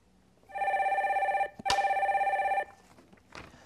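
A telephone rings twice with a steady electronic trill, each ring lasting about a second, clear and fairly close, followed by quiet before a call connects.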